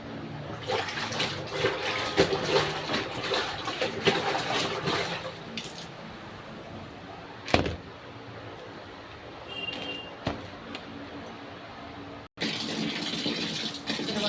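Water gushes steadily into a tub where clothes are being soaked, loud and continuous, broken by a few sharp knocks and a brief cutoff near the end.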